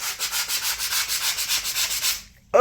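Rhythmic back-and-forth rasping as putty patches on an apartment wall are sanded by hand, a harsh, scratchy hiss pulsing about five strokes per second before stopping abruptly.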